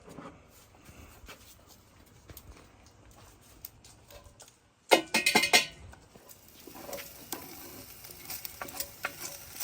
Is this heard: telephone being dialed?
no